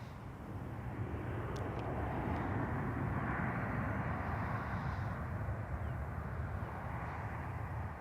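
An airplane at Toronto airport produces a continuous, moderately distant jet roar that holds steady throughout, with no talk over it.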